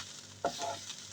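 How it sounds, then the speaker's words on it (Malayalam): Bitter gourd thoran being stirred in a pan over a low flame, a soft scrape of the spoon followed by a gentle, faint rustle of the drying vegetables, heard alone without talk. "ലോ ഫ്ലെയിമിൽ വെച്ച് സ്ലോ ആയിട്ട് നല്ലപോലെ ഇളക്കി നല്ല ഡ്രൈ ആക്കി എടുക്കണം."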